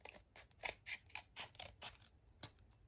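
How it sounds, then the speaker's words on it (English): Scissors trim paper along the edge of a junk journal pocket insert. About a dozen quick, close snips and crisp cuts come in an uneven rhythm, fairly faint, with no talking. "And just trim that off along the edge of the top."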